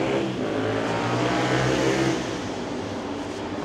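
Cars driving past at night in Jerusalem, a continuous engine rush that swells and then eases slightly as a vehicle moves by, fairly close and without talk.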